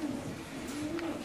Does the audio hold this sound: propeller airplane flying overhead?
no